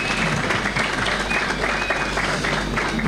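Audience applause at a Mozambican political gathering, a loud, dense burst of many hands clapping close by, sustained evenly for the whole few seconds.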